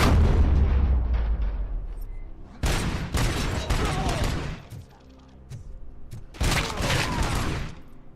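Bursts of gunfire and heavy booms from the RoboCop video game, loud rolling volleys in three clusters with quieter gaps between them.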